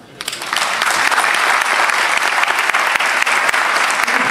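An audience in Belgium applauds the translators at a documentary screening and commemoration night, a loud, dense and steady wash of clapping that starts almost at once and holds without a break.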